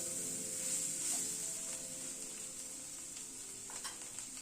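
Chickpeas and potatoes frying in a pan, a steady hissing sizzle that holds throughout, with light stirring scrapes and a few small clicks from the spoon.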